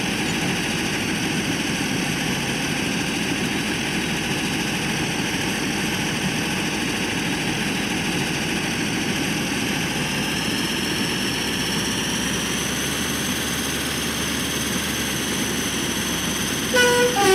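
A steam-era Class 15 train rumbles along at about 60 miles an hour, a loud, steady engine drone with constant mechanical whine and no pauses, heard up close throughout.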